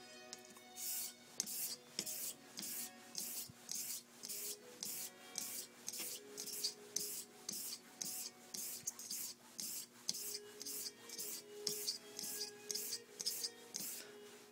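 A knife blade scraping in diagonal strokes across a Shapton sharpening stone, a faint, close, rhythmic rasping of about twenty even strokes repeated steadily with no talking.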